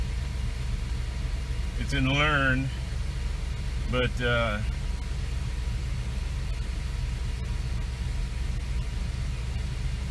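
A 1973 Gran Torino with Holley Sniper EFI idles at about 950 rpm, a steady low rumble running continuously, while someone speaks briefly twice over it.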